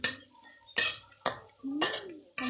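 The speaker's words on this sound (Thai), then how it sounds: "ผัดผัก" Mixed vegetables stir-fried in a pan with chili and garlic, the spatula scraping and clanking against the metal in several loud strikes separated by quieter sizzling gaps, heard close up.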